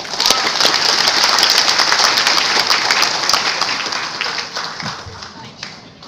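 An audience applauding at an evening event, dense sustained clapping that swells at first and then gradually thins and fades out over several seconds.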